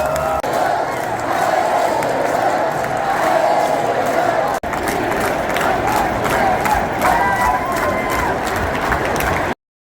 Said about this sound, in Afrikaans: Hierdie Franse skare is baie patrioties.